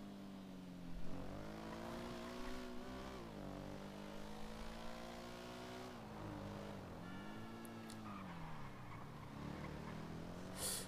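A motorcycle engine in the video game MindCity drones steadily and rises and falls in pitch as the bike speeds up and slows down, moderately loud, with no talking.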